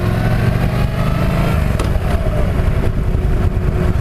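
A Yamaha V-Star 1300 Deluxe motorcycle on a casual ride through Chemung Township: a loud, close, steady engine drone with a continuous low rumble that holds throughout.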